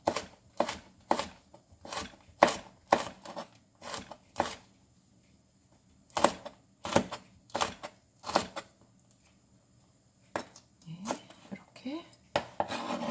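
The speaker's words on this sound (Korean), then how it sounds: "그리고 홍고추 이렇게 동글동글하게 썰어서" A knife slicing a red chili pepper into rounds on a cutting board, a series of crisp close taps in quick bursts separated by short pauses.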